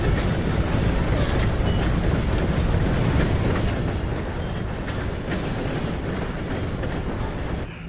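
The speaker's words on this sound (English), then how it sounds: "Gotta beat that train, Morgan!" Train passing during a chase in Red Dead Redemption 2, a loud, dense rumbling roar that holds steady and close throughout, easing slightly toward the end, with no voices.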